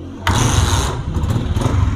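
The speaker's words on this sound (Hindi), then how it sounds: "तो दोस्तों मोटरसाइकिल मैंने स्टार्ट किया है तो देख सकते हैं कि इसकी आवाज़ भी अच्छी नहीं है, बहुत फटी सी आवाज़ है।" A Honda CG 125 motorcycle with poor pickup starts up abruptly, then idles close by with a rough, cracked, uneven engine note.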